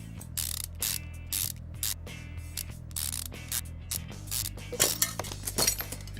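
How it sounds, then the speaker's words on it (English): Soft metallic clinks and quick ratchet clicks come in a steady series as an oil pan is bolted back onto a car engine in the video game Car Mechanic Simulator 2015, fairly quiet with no voices. "So let me put the oil pan back on."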